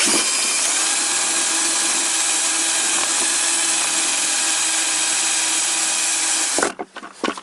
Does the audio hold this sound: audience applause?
no